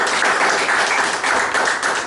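A church congregation gives loud, dense applause for the Lord, many hands clapping steadily without pause, filling the space close and full.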